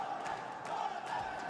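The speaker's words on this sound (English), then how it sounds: "The ferocious crowd here in France giving them their energy. Chant after chant, screaming the name Godlike" Energetic esports arena crowd in France at a grand final, a dense wall of massed voices chanting and cheering continuously, with rhythmic surges of shouting rising and falling in steady waves.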